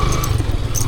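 A motorbike engine runs close by with a low rumbling idle and some clattering and rattling, while the bike sits on a rough road that has no pavement.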